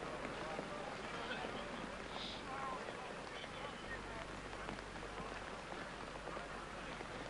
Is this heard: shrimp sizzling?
no